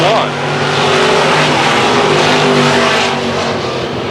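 Race cars roar past on a speedway track in a loud, continuous engine drone that swells and fades slightly, with an announcer's voice calling the race over it.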